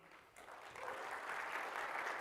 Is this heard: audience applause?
yes